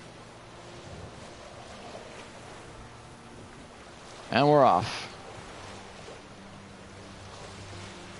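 Steady wind and water wash from a sailboat moving across open sea in The Witcher 3, a low continuous bed running under a man's brief spoken line.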